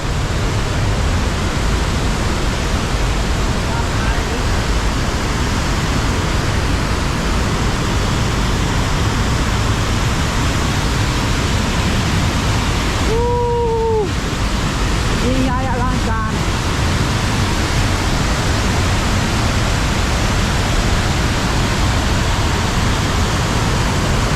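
A large waterfall in southern Laos roars in a steady, dense wash of falling water that never lets up, with a couple of brief tonal calls cutting through near the middle.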